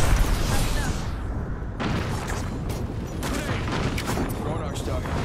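Gunfire in the Apex Legends shooter game, dense overlapping rapid shots and blasts in a continuous loud barrage, with a voice talking over the combat.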